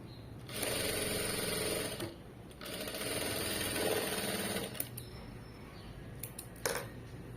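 A sewing machine stitches thread piping onto cloth in two steady, loud whirring runs separated by a short pause, followed by faint clicks and light handling noises.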